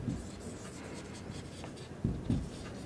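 Handwritten solution to a pair of linear equations being written out, pen scratching steadily on paper at close range with a few slightly firmer strokes near the end, with no talk.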